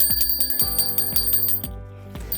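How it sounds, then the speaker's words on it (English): A bell rings repeatedly during a brain-injury patient's therapy session. Five bright, close strikes about half a second apart each ring out briefly, with no speech. "Touch the bell."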